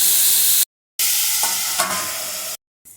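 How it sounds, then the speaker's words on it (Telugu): Ivy gourd pieces stirred in a hot pan, giving a steady sizzle with faint scraping, broken by brief silent cuts. "ఇప్పుడు ఈ దొండకాయ ముక్కల్ని బాగా కలుపుకొని ప్లేట్ వేసుకొని"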